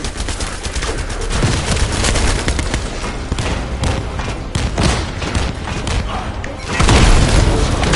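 Heavy continuous combat din from The First Descendant on PS5 Pro as a procedural bomb goes off, with dense booms, rattling gunfire and thuds throughout, and a louder explosive swell near the end.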